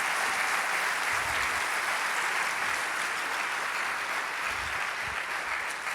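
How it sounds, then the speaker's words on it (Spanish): A church congregation applauds, a steady wash of clapping from a large crowd heard at a distance, continuous and even with no voices over it. "más fuerte ese aplauso."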